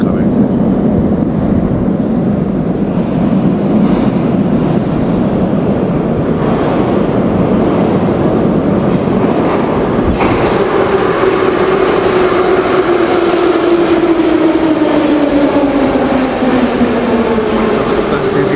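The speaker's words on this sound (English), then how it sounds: "the metro's coming." Kyiv metro train pulling into Tereshchenko station, a loud rising rumble of wheels and motors building steadily with a long squealing whine as it slows alongside the platform, people faintly talking beneath.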